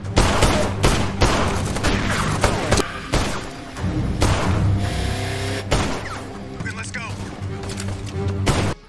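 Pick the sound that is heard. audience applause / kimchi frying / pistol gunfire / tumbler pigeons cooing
pistol gunfire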